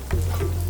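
Dal and peanuts sizzle steadily in hot oil, a tempering for temple-style puliyodharai, with a soft continuous crackle close up and no voices.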